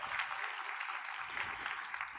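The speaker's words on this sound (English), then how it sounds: "Let's give her a round of applause." Faint, distant applause from a leadership summit audience welcoming a guest speaker onto the stage, a soft continuous wash of many hands with no distinct individual claps.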